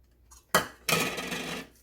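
Squeezed cucumber and carrot being dropped into a bowl of mashed potato mix, with a sharp clink on the bowl followed by a longer soft scraping and mixing sound, close and clear against quiet.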